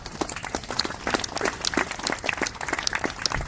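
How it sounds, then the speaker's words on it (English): Applause from a picnic audience at an outdoor community gathering, a dense, steady patter of many hands clapping at close range that keeps going throughout. "I think you all deserve a round of applause"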